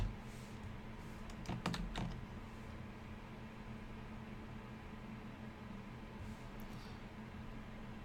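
Rapid keystrokes on a computer keyboard, a short dense burst of clicks near the start followed by a quieter stretch and a few more light taps, close and fairly soft.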